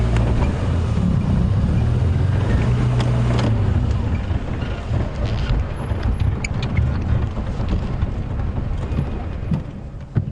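Wind buffets the microphone during a morning safari drive, a steady broadband rumble with low gusting roar throughout, loud and continuous with a few faint bird notes in the background.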